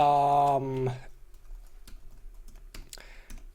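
Quick, light keystrokes on a computer keyboard typing a search follow a short burst of speech, the clicks coming in an uneven run close to the microphone.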